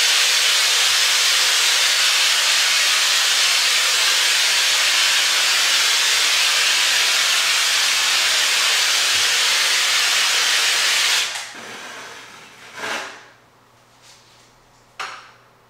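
A texture sprayer blasts thick texture onto a ceiling with a loud, continuous close hiss that cuts off abruptly, followed by a few brief clatters and soft knocks in quiet.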